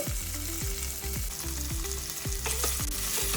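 Tomatoes, onions, curry leaves and tamarind fry in a pan over a medium flame for a green chilli tomato chutney, a steady dense sizzle with stirring running under a rhythmic background tune.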